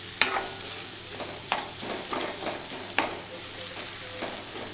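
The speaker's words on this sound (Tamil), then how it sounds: "அதையும் இதோட ஒரு கலக்கு கலக்கணும்" A spoon stirs chilli and sambar powder into a simmering kara kuzhambu in a pan, with a few sharp clinks and scrapes over a soft, steady sizzle, close by and with no talking.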